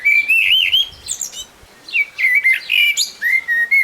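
A common blackbird (Turdus merula) sings alone in clear, close whistled phrases, fluting runs rising and falling with short pauses between bursts.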